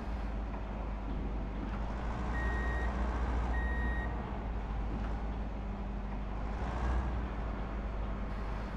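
Truck reversing beeps in Truck & Logistics Simulator, two short bursts of steady, evenly spaced electronic pips over a continuous low diesel engine drone and ambient rumble.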